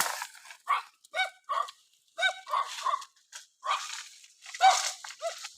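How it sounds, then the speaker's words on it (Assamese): A dog barks and yelps in a string of short, loud calls near a riverbank, the barks coming in irregular bursts with brief gaps between them. "কুকুৰে চিঞৰিছে চোৱা"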